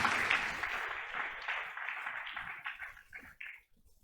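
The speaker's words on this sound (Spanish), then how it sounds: "aplaudimos al Señor en esta noche." Church congregation applauding during a service, a dense burst of hand clapping that starts full and steadily thins into scattered claps before dying away.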